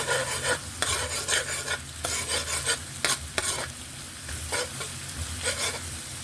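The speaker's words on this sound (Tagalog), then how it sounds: "Igisa lang natin sa butter, then maraming garlic." Shrimp and crab sautéing in butter with plenty of garlic, sizzling steadily while a utensil stirs and scrapes the pan in repeated bursts, close and fairly loud, with no talking.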